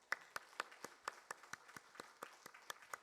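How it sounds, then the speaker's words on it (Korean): A church congregation applauding during a Sunday morning service, with quiet, rhythmic, evenly spaced claps in near unison. "함께 우리 박수로 격려하겠습니다"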